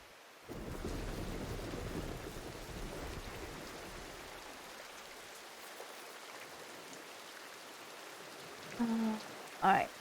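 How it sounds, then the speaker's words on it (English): A rainy thunderstorm in the video game Diluvian Winds, with a steady rush of rain and a low, rumbling roll of thunder, fairly faint, ending with a couple of brief louder game sounds. "We're about to hit the storm,"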